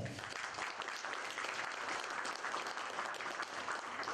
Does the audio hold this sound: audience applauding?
yes